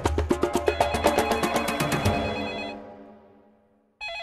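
An old-style telephone bell rings in a rapid rattling burst, then fades away into silence before another ring begins.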